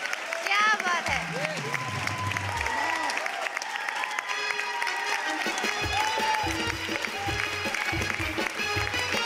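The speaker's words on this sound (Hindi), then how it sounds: "जोरदार तालियां।" Loud applause from an audience at a talent show, sustained dense clapping for several seconds with a voice speaking over it near the start and in places.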